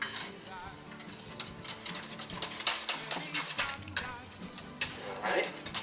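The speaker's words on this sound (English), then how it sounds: "You get a little whisk. Get a little whisk on it." A coquito mixture whisked in a bowl, with rapid ticking metallic strokes repeating steadily throughout, close by, while people talk softly over it.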